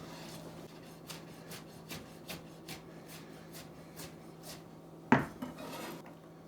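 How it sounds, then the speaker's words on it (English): A kitchen knife chops jalapenos on a cutting board, a steady series of soft taps about every third of a second, then a louder clack near the end, quiet and close with a low hum beneath. "Now that you're done cutting your onion, move on to your jalapenos."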